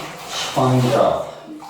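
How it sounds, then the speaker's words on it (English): A wet sponge with water wipes excess coving adhesive off a wall and ceiling joint, giving a short, soft watery swish under a man's speech. "And then you sponge it off the excess adhesive."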